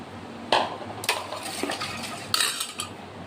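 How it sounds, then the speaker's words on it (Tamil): A spoon adds sabja seeds to a glass of pineapple sherbet, with close metallic clinks and taps against the glass and soft stirring scrapes in between. "அப்படியே சப்சா சீடு எல்லாம் போட்டுக்கிறேன்."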